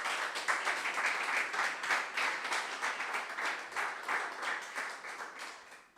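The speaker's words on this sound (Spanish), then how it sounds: "Den una ofrenda de aplauso al Señor." A church congregation claps in praise, a dense, steady wash of many hands that stays strong for several seconds and then tapers off toward the end.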